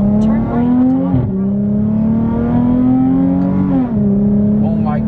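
A Dodge Charger Hellcat's engine idles loud and close with a steady deep drone, swelling in two brief revs around the middle and near the end, heard from inside the car.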